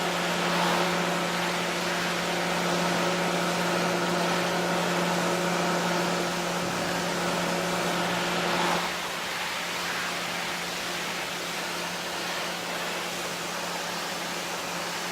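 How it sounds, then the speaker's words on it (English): Pressure washer in the Farming Simulator 2015 video game sprays as a loud, steady hissing rush with a constant tonal hum, dropping to a quieter hiss partway through. "Now, how much pressure's on this pressure washer? It won't even knock weeds down."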